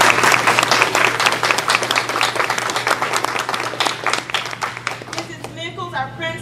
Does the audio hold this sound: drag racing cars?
no